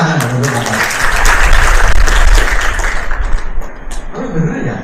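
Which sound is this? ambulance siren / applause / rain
applause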